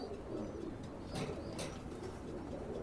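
An Oman teddy pigeon coos softly in a quiet setting, a low murmuring call with a couple of brief sharper noises.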